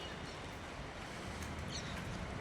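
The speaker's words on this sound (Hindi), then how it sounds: "मौसम आप देखें कि बरसात की आवाज़ सुनिए, सुनिए।" Heavy rain falling outdoors in Udaipur during a sudden downpour, a loud, dense hiss and patter with gusty wind noise on the microphone throughout.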